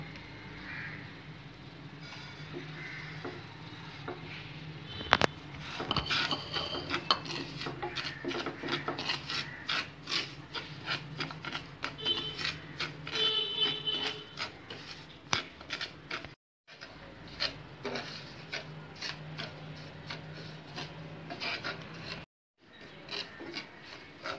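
Dry semolina (rava) is roasted in a pan for rava kichadi, giving a continuous gritty scraping and rubbing as it is stirred, close by with two brief pauses and no talk.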